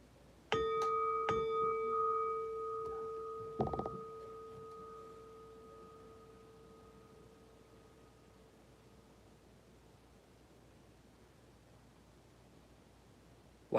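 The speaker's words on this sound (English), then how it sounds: "You get a bell for joining the stream." A bell chime marks someone joining a live stream: a few quick bright strikes, then a clear ringing tone that hangs on and slowly fades into quiet hiss, with no talk.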